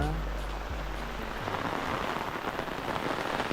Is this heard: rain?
yes